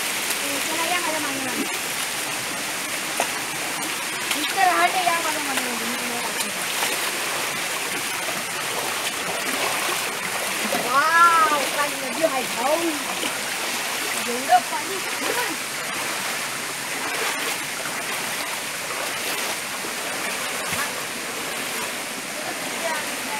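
Water rushes steadily through a dug channel beside a forest river, a continuous broadband splashing flow that fills the whole stretch, with someone talking over it at times.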